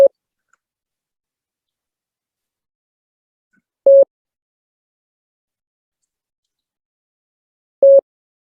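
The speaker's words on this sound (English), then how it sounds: "This is the letter T." Morse code letter T sent as a single steady tone dash, repeated three times with long silent gaps between, clean and isolated.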